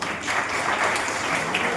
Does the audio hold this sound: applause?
yes